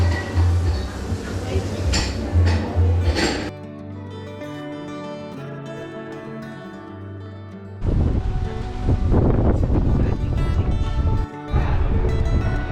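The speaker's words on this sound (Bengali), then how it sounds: "কি হাওয়া দিচ্ছে, এই গাছগুলো পুরো একদিকে হাওয়ায় দুলছে।" Strong coastal gusts buffet the microphone with a low roaring rumble, dropping away briefly to reveal soft music before the blustery wind returns.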